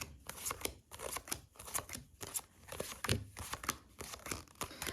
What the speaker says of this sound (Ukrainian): Тому я передивляюся карти швидко.